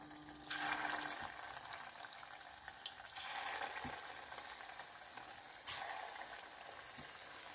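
Sesame-coated meatballs sizzle and spit in hot oil in a frying pan, with a steady crackle, occasional louder bursts and light stirring noises close by.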